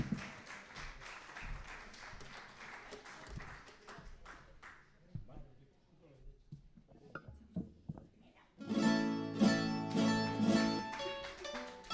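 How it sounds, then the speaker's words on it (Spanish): At a live anniversary celebration of the Centro Aragonés de Sabadell, an audience claps briefly at first while someone speaks. Loud, sustained applause for a singing duo then builds near the end, with music joining in. "vamos a darle un fuerte aplauso a esta pareja"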